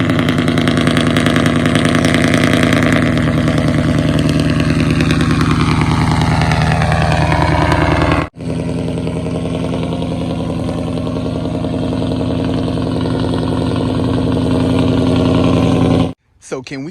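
Engine of a 1979 Chevy box truck idling loudly, a heavy steady rumble with a slight lope, recorded from a short distance back, briefly cut out twice.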